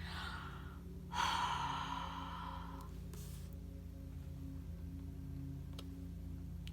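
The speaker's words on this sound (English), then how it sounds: "cup around, and then huff with your breath" A single sharp, breathy huff blown close onto an ink stamp to moisten dried ink, a brief puff of air that fades quickly into quiet room tone with a couple of small ticks.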